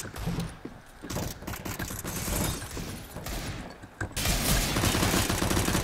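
Gunfire in the Counter-Strike: Global Offensive Demolition mode, with rapid bursts of automatic shots and mechanical weapon clatter, loud and continuous over several seconds.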